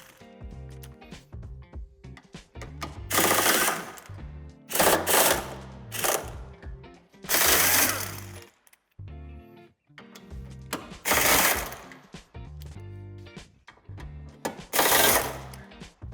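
Power tool unscrewing the bolts that hold the bumper bar on a 2019 Opel Zafira Life, in several loud rattling bursts of impact-like whirring separated by short quiet gaps, close by.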